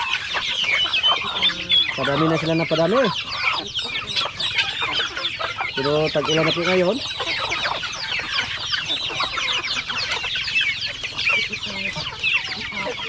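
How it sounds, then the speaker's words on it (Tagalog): Chickens on a farm, kept alongside ducks and geese, cluck and squawk continuously at close range, with a couple of louder drawn-out calls rising above the flock while a person speaks briefly. "May pato, may manok, may gansa"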